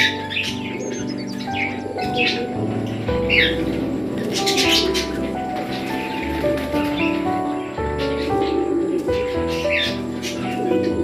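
Pigeons coo and small birds chirp and tweet in a busy mix inside a bird room, calls overlapping steadily as a low murmur sits beneath.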